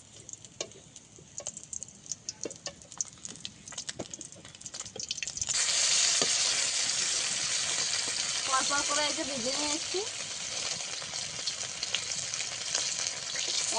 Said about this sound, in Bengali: এক করে ভেজে নেওয়া সব মাছ এক এক করে সব ভাজা হয়ে গেছে